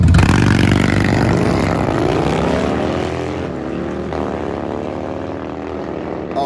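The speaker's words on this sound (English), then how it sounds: "These Harleys are bar to bar, down through the quarter mile." Harley chopper motorcycles drag race side by side down a quarter-mile strip, a loud engine roar that sweeps downward in pitch and fades as the bikes pass and pull away.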